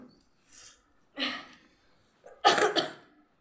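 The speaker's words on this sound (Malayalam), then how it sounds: "ഇനി നല്ല ചുമയുണ്ട്" A person coughs close up: a faint short cough, then a harsh burst, then a louder double cough at the end, with quiet pauses between.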